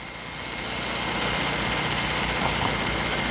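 Jet aircraft flying overhead, a broad steady roar that swells over the first second and then holds loud and constant, with no voices over it.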